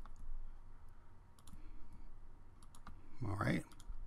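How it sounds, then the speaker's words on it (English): Mouse clicks and keyboard key presses at a computer running embroidery software, sounding as a scatter of faint, sharp ticks over a soft background hum, with one louder clatter near the end. "left click, press enter, there"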